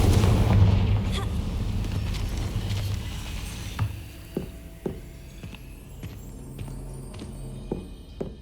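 A fiery Confringo spell from Hogwarts Legacy erupts in a loud, booming blast that fades into a rumbling tail, followed by a run of sharper, smaller bursts and pops at irregular intervals.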